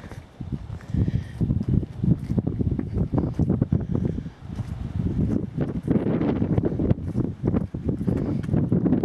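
Strong wind blowing outdoors in a state forest on a cold, rainy November day, a continuous loud rough buffeting roar with gusts that batter the microphone.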